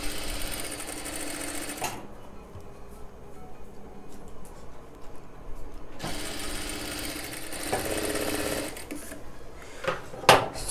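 A Jack industrial sewing machine stitches fabric with a fast mechanical whir. It runs steadily, drops to a quieter lull, then starts up loudly again, with a sharp click near the end.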